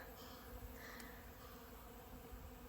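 Bees hum steadily around a blooming plant in a garden, a faint, continuous drone with a soft buzz passing close about midway through.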